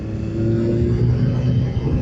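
A BMW S 1000 XR four-cylinder motorcycle engine revs up in a steady, loud, close rumble that builds through the gears, with no talk over it.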